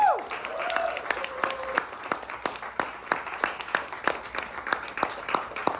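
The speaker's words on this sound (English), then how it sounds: "Keep that round of applause going for Skye and Alina." Audience applause for poets Skye and Alina at a poetry reading, a steady room full of clapping hands that carries on for several seconds, with a few voices briefly audible near the start.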